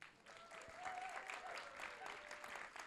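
Audience at a live public radio event bursts into a quick round of applause, a dense steady clapping that fills the room for a few seconds, with a faint whistle or cheer rising over it.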